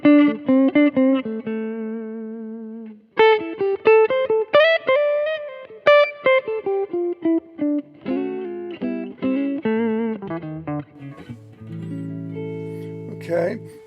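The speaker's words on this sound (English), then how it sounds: "This pickup here, the Lawler Charlie Christian, is quite a warm pickup. So realize that this channel is going to sound quite warm and jazzy" Electric guitar with a Lawler Charlie Christian pickup played through a warm clean channel of an Ethos Clean Fusion Deluxe amp: plucked single notes and chords ringing out, ending on a sustained chord, close and clear with no talking.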